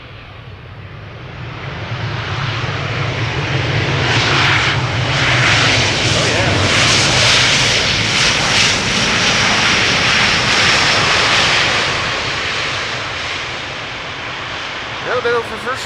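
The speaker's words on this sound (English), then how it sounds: "A little bit of reversers being applied." An airliner lands at Amsterdam Schiphol Airport, its engines building into a loud, broad roar as thrust reversers are applied, then easing off over several seconds, with someone talking quietly over it.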